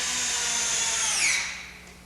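A power drill drives screws to mount the wall bracket for a central vacuum unit, a short high whine that holds steady and then winds down as the motor slows.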